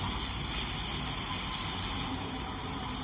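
Ginger-garlic paste and chopped green chillies sauté in a pan for dum aloo, giving a soft, steady frying hiss that stays fairly quiet and even from start to finish.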